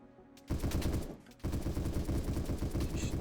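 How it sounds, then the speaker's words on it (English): Automatic gunfire in the online survival shooter game Apocalypse Rising 2, two loud sustained bursts of rapid shots separated by a brief pause, close and dense. "This guy's shooting at me?"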